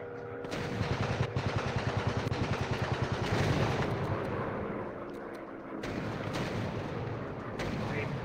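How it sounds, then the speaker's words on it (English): Anti-aircraft gun fire in the War Planes flight combat game, a sustained rapid pounding barrage of booming shots that runs nearly continuously, dense and loud throughout with slight dips in intensity. "the AA gun's going off here"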